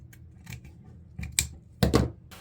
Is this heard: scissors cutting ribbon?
yes